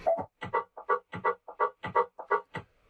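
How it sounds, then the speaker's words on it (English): Short impulse-response reverb from Reverberate on a music track, a rhythmic repeating pattern of short, clipped hits with a tight, brief tail, fairly quiet. "This short reverb I'm using Reverberate. It's impulse response reverb that I like a lot."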